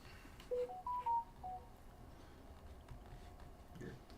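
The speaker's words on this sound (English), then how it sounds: "I don't know what that is. It's a notification." Short electronic notification chime heard while wood burning a pyrography piece, a quick rising series of clear tonal beeps near the start, faint against quiet room noise, followed by soft incidental rustles.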